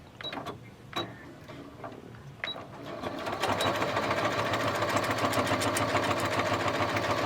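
A sewing machine stitching a clutch wallet, starting with a few sparse clicks and short runs before settling into a steady, continuous fast whirring hum with rapid needle chatter, close and fairly loud.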